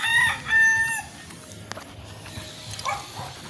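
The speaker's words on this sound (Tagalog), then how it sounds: "May manok pa talaga dito." A rooster crows loudly nearby in a short, bright call, followed by fainter, distant crowing over a quiet outdoor background.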